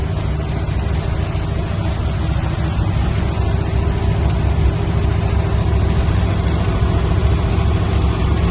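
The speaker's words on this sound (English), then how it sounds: "Starting to hail now." Hail drums steadily on a car during a drive, a dense, loud, continuous patter over a low engine and road rumble with no talking.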